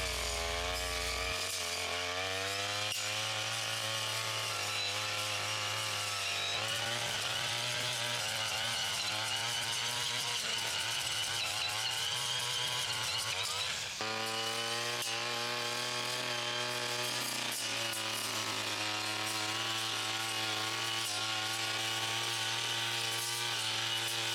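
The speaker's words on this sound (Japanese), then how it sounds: "この機械は10分ほど草刈り作業をするとエンジンがストップする という症状でしたので、 30分ほど草刈りをしてみました。" A Zenoah brush cutter, an engine that used to stall after about ten minutes of work and has had its ignition coil replaced, runs continuously while cutting grass, a loud buzzing two-stroke drone that rises and falls in pitch as the throttle changes.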